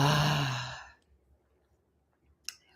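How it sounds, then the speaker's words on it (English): A deep, full exhale through the mouth during a guided meditation: one long, breathy sigh that fades out over about a second, followed by near silence and a small soft tap. "taking a big deep breath in through the nose, and exhale fully through the mouth"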